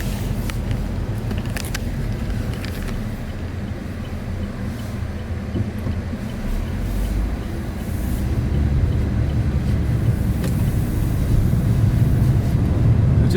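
A 2019 Chevrolet Spark with a 1.4-litre four-cylinder fuel-injected engine driving on the road, heard as a steady low rumble of engine and road noise that swells slightly near the end, with no talking.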